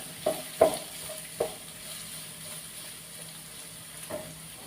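Upma ingredients, including carrot, being stirred and sautéed in a pan until brown: a low, soft sizzle broken by a few distinct scraping stirs, fairly quiet.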